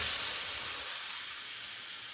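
Bread soaked in pork marinade sauce sizzles in a skillet with a steady, soft hiss that fades slightly as it goes on, close by and with no talking.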